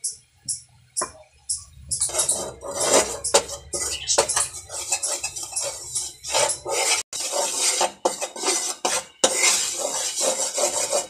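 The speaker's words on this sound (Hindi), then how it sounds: "बहुत धीमी आंच पे हम इसको आस्ते आस्ते भून रहे हैं" Chicken for nihari, mixed with its boiling stock, slowly frying on a very low flame, heard as intermittent stirring, scraping and clinks of a spoon against the pot over a soft sizzle, close by.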